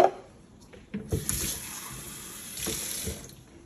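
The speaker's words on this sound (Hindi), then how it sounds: "थोड़ा सा पानी डाल ही देती हूँ," Water poured into a pot of chicken curry, short splashy pours with a brief gap between them, close to the listener, over a faint background hiss.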